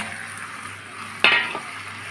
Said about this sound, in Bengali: চিকেনগুলো দিয়ে আমি নেড়ে চেড়ে ভালোভাবে মিশিয়ে নেব।